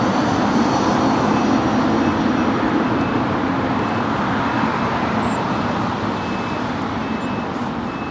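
An airliner taxis across a runway at LAX and turns onto a taxiway, a steady loud engine roar with a broad rumble holding evenly throughout, with no voices.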